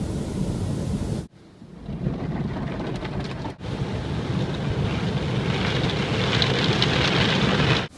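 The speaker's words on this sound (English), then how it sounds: "I'm taking it through the wash." An automatic car wash blasts water over a Kia Forte in a loud, continuous rushing roar, broken by two brief drops in level before the spray builds again.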